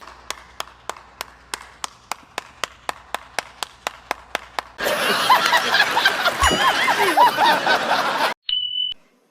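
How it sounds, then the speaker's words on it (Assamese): Even, rhythmic claps ring out at first. Then a dense crowd roar of applause and cheering fills the hall before cutting off sharply. "দে হাত চাপৰি বজো"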